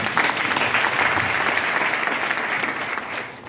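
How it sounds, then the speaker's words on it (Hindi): Sustained audience applause at an RCM business seminar, a dense steady wash of many hands clapping at once, loud and close, easing slightly toward the end. "जबरदस्त तालियां बजाओ।"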